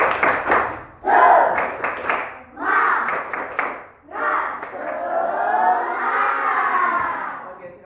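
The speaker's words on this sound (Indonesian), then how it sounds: "Tepuk semangat." An elementary school class in Indonesia bursts into a rhythmic spirit clap-and-chant in bursts, children's voices shouting in unison over patterned clapping, loud and close, ending in a sustained group cheer.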